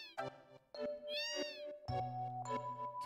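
Several distinct cat meows from the video game Final Fantasy VII, three or four clear, close calls with a drawn-out wavering one in the middle, over a soft musical tone and without voices.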